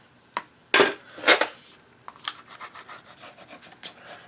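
Folded paper is burnished down onto an 8x8 mini album cover, heard up close as a few sharp rubbing strokes followed by a run of quicker, softer scraping rubs.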